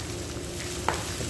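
Garlic and white onion sautéing in a pan make a brief, steady sizzle up close, with a single sharp stir or tap near the end.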